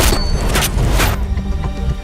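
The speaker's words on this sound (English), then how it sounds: "Aim it and pull the trigger." A loud, booming gunshot from the film Tenet, heavy and close with a deep low thud and a sharp crack, followed by a fading rumble.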